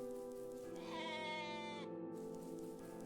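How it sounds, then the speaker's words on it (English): Sheep in the video game OneShot: The World Machine, a single drawn-out wavering bleat over a steady background of game music. "At least that's a normal sheep."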